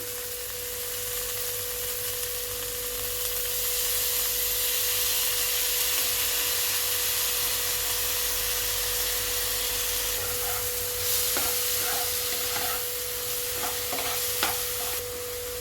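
Macaroni ingredients lightly frying in a pan while being stirred: a steady sizzling hiss with a constant hum underneath, then scraping and tapping of a utensil against the pan near the end.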